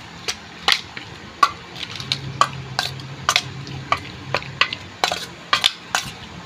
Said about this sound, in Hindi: पयल्यार मिरसांगे पीठ घालता आनी हल्दी पावडर घालता, दोगांक बरोबर मिक्स करता